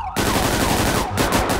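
Loud, continuous rapid gunfire in GTA 5 roleplay crackles throughout, a dense burst of shots with a brief pause near the end.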